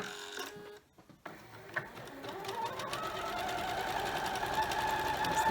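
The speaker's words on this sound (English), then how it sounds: "let me go ahead and just start sewing some of these strips here" A sewing machine runs steadily while stitching fabric strips for a scrap quilt, its fast, even mechanical whir continuing close and loud after a brief pause and restart near the beginning.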